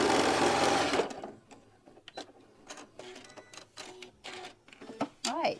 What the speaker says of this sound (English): just sew off to the end